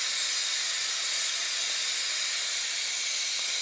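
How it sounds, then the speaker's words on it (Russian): Eggs boiling in a steaming pot in a home kitchen, giving a steady, even hiss of steam and bubbling that runs unchanged the whole time, close and fairly quiet with no voices. "Варим яйца."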